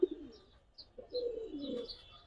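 Giribaz high-flyer pigeons kept in a loft, with a low, rolling coo that swells and fades twice, accompanied by a few faint chirps nearby.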